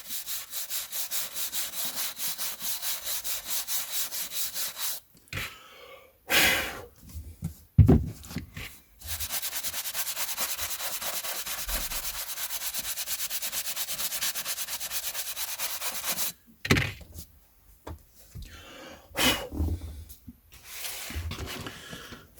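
Vintage paperback books being brushed, with a rough, continuous scrubbing sound in long sweeps broken by short pauses and quick strokes, close and fairly quiet, no talking.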